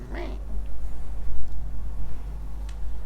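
A pet cat gives a single short, rising-then-falling cry right at the start, close by in a room, followed by steady low hum and faint background shuffling.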